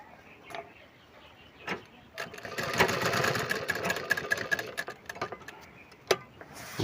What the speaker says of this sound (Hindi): इस तरह से घुमा करके पूरा राउंड आपको सिलाई कर लेना है नीचे तरफ।